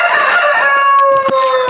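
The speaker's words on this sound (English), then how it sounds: "the cockerel's making a noise now" A cockerel crows on a working farm, one loud, close, drawn-out call with strained harmonics that holds for over a second before trailing off, heard alone without talk.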